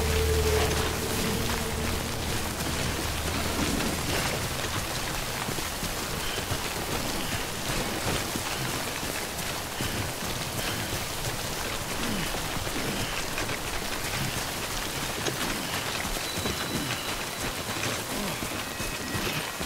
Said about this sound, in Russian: Хорошо, что шел дождь.